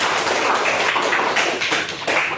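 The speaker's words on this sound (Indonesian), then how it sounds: "tepuk tangan untuk Radita" A classroom of students claps for a classmate, a busy, close, overlapping patter of hand claps that rises and falls in small bursts.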